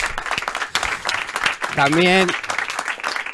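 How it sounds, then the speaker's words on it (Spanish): Applause for a performer at a Spanish-speaking gathering rises under a host's loud talking, with brief clapping broken up by speech and a sung or drawn-out voiced tone in the middle. "Un fuerte aplauso para Peach"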